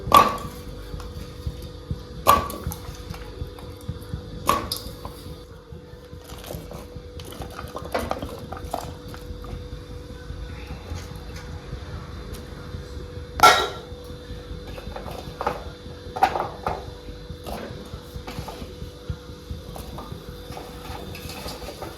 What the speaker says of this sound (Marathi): आपण एक एक भाजी कुकरमध्ये शिजण्यासाठी टाकून घेऊ